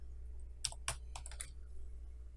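A computer keyboard is typed on in a short, faint run of about six or seven soft clicks over a low steady hum.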